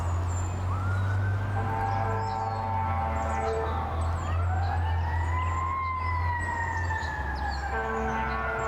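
An ambulance siren wails alone near a disc golf course, its rising and falling tones sweeping over steady traffic rumble, loud and fairly close throughout.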